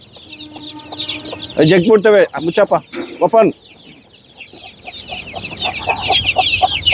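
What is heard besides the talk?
native (nati) chickens clucking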